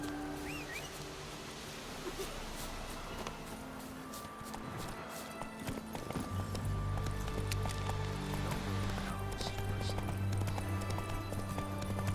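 Roach the horse in The Witcher 3 gallops with rapid rhythmic hoofbeats, starting lighter and growing denser and louder as the pace builds, with a low rumbling background underneath.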